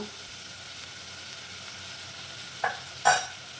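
Semolina is stirred and roasted with salt in a pan for upma, with a soft, dry scraping sizzle, then two sharp clinks of a utensil near the end.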